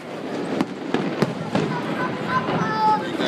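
A fireworks grand finale sounds as a quick string of distant booms and crackling bursts at irregular intervals, with people chatting nearby throughout.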